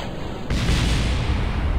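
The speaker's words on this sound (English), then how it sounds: "some explosions because well those boosters collided into, each other" A sudden loud explosive boom as colliding rocket boosters explode in Kerbal Space Program, bursting in at once and rolling on as a sustained, rumbling blast with heavy low-end roar.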